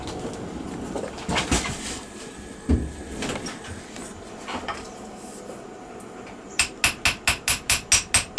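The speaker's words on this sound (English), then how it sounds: "we have 2 strips of niobium here. I'm going to flatten it out" A hammer pounds niobium strips flat for earrings, with scattered single blows early on, then a quick, even run of about eight sharp metallic strikes close by at the end.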